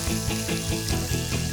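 Finely chopped onions hit hot oil with curry leaves in a pan for mutton soup, giving a loud, steady, close sizzle with no talking.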